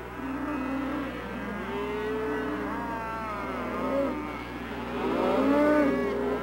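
Calves and cows bellowing back and forth in a gathered herd, a string of long overlapping moos, some rising and falling, fairly close and loud, with no voices heard.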